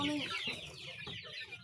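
Chickens cluck in a close cluster on a rural Philippine farm, several hens calling over one another in short, busy bursts with no talk.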